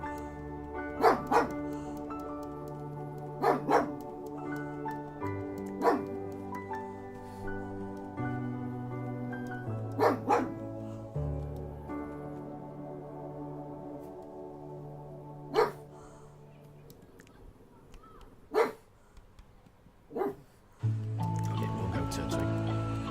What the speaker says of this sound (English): Daruk can hear a dog barking outside.